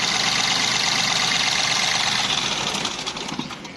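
Mahindra TUV300 engine running after an overhaul, a close, steady, loud mechanical drone with a fast ticking rhythm that eases slightly toward the end, with no talk over it.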